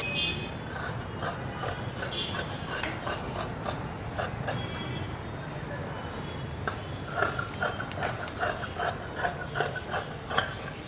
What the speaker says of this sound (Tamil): இப்போ இதை நம்ம கட் பண்ணிடலாம்